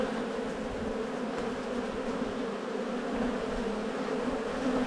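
Honey bees festoon on a hive frame in an Australian apiary, giving a dense, steady buzzing hum that stays close and even from start to finish, with no voices.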